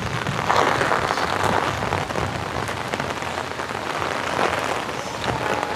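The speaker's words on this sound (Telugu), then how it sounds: "బాగానే పడుతుంది వర్షం, బట్ నేను వర్షంలోనే వెళ్తున్నాను." Heavy rain pours outdoors, a dense, continuous hiss of drops hitting surfaces, loud and unbroken with no voices.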